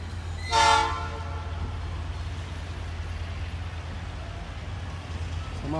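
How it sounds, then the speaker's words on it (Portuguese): A freight train crossing Jaraguá do Sul blasts a single short horn early on, then its low rumbling drone rolls on steadily at a moderate distance through the rest of the passage, with no voices. "Trem de carga chegando."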